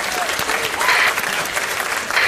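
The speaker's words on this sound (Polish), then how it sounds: "Nie, to brawa, naprawdę," Loud, close audience applause from a studio crowd at a comedy show, a thick continuous clatter of many hands with faint whistles cutting through.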